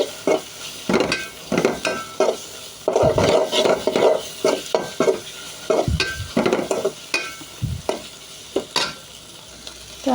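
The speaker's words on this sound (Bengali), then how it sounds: "নাড়াচাড়া করে নিচ্ছি।" Chili powder and spice powder fry in a pan for cauliflower curry while a spoon stirs in rhythmic, clattering scrapes over a sizzling hiss, close and fairly loud.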